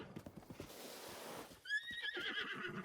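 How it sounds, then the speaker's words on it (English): A horse in The Legend of Zelda: Breath of the Wild lets out a bright, wavering whinny after a short run of hoof clip-clops, the call ringing out clearly near the end. "let's call our pony over here."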